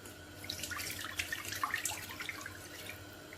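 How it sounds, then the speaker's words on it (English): Water pours and splashes into a cooking pan, a faint, continuous trickle with small splashy bursts, close by and without talk. "We're going to put some water in the pan."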